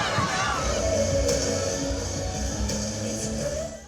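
A crowd cheers and shouts along Romulo Boulevard during a grand float parade at the Kaisa Music Festival, a dense, steady roar of voices mixed with music that fades slightly at the end.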